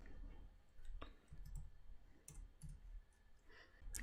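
Mouse clicks from a computer while a Spring Boot project is set up in an IDE, a few faint, sharp taps spaced apart over quiet room noise.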